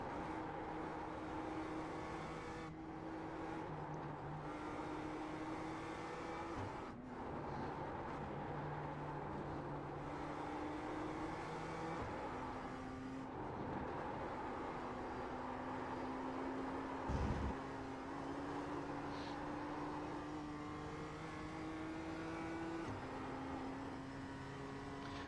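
A race car in a sim racing video game drones steadily at a moderate level, its engine pitch rising and falling through shifts, with no voice over it.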